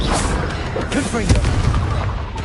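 A Confringo blasting spell explodes in Hogwarts Legacy, bursts and booms layered over dense combat noise with a voice speaking beneath.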